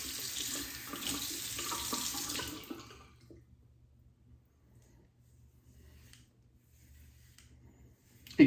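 Tap water runs steadily into a sink while a shaving razor is rinsed, then the flow stops abruptly, leaving near silence with a faint clink at the very end.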